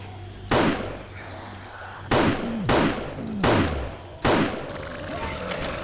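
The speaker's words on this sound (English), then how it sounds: "And they're shooting at me and breaking stuff." Gunfire from zombie cops during a Day 21 horde in 7 Days to Die Alpha 12, with four loud, sharp shots spaced irregularly, each trailing a ringing echo, over low game noise.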